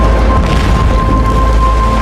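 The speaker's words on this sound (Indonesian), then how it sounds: "fasilitas DSI pun meledak dan terbakar hingga tak tersisa" A facility in a film explodes and burns, a loud sustained roaring rumble that holds steady with a low boom underneath, then cuts off abruptly at the end.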